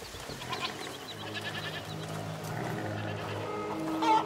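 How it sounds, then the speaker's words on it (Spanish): Goats bleating in the video game A Plague Tale: Requiem, several wavering calls overlapping against soft ambient game background, moderately close, with a faint hoof clatter near the end. "¡Cabras!"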